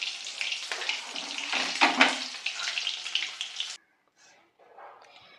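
Katla fish pieces sizzling in hot oil, a steady close crackling hiss that cuts off abruptly as the fried fish is lifted out, leaving faint kitchen sounds.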